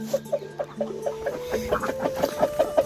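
A laying hen of a new breed clucks in a steady run of short, evenly spaced calls, fairly close, with faint background tones and no talking.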